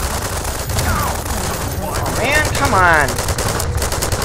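Rapid gunfire aimed at a Strider in Half-Life 2 rattles on as a dense, continuous barrage, with a man's excited exclamations heard over it.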